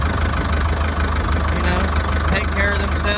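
A farm tractor idles nearby with a steady, low rumbling hum that holds even throughout, while a person talks over the engine.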